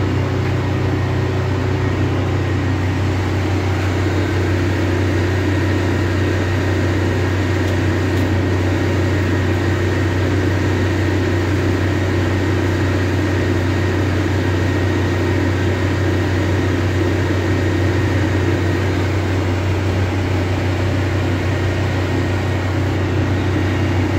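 A Wisper Watt genset generator runs steadily under load, giving a loud, constant engine hum with a deep tonal drone and no change in pitch throughout.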